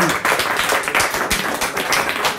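A crowd at a live music event claps and applauds loudly and steadily throughout, a dense wash of overlapping hand claps with no pauses.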